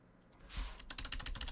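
Rapid clatter of keystrokes on a computer keyboard, close and fairly loud, with a burst of quick clicks after a softer rustle.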